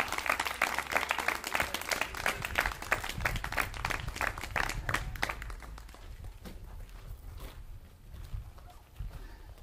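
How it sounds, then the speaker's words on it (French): A church congregation applauds to welcome its pastor, a dense burst of clapping that is loudest in the first half and then thins into scattered claps against a low room rumble. "on peut applaudir, encourager."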